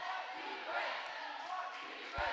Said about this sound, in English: it's hard to hear what he's saying just because of the noise of the crowd